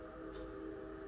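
A passing train lays on its horn, a steady sustained tonal blast held for the whole moment at moderate distance with no talk over it.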